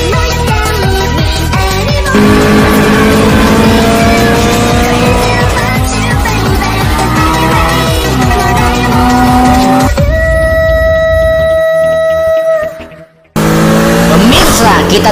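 A 2.5-litre Porsche boxer engine roars through an anime street race, loud revving and tire squeal over a dense music score, with a brief dropout near the end before the racing din returns.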